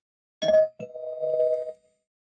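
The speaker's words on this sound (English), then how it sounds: "I'll ring the spoiler bell" A single bell strike with a bright attack and a sustained ringing tone, then a second ding that rings on for about a second before fading, clear and alone with no talk, used as a spoiler warning cue.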